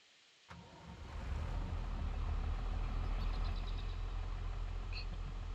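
A tractor engine cranks and catches after a sharp click, then settles into a steady, loud, low idling rumble that continues throughout.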